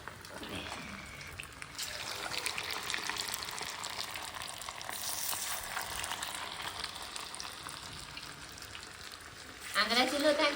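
Pakora batter fries in hot oil with a soft, continuous bubbling sizzle at low volume, and people talk over it, with a brighter splash of sizzle near the end.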